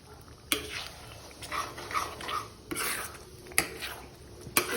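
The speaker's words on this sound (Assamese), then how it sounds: "এতিয়া আমি এইখিনি ভালদৰে লৰাই ল'ম" Chicken butter masala with yogurt stirred in a pan over low gas, giving soft scraping and a few sharp utensil clinks against the metal, close and moderately loud with no talk.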